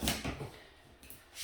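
A drawer beneath a kitchen sink with newer piping slides open or shut, giving a few soft, quiet thuds and a short scrape nearby with no talking.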